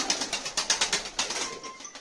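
Tumbler pigeons close by, with soft bursts of wing flapping in a quick pulsing rhythm and faint cooing, and no voices.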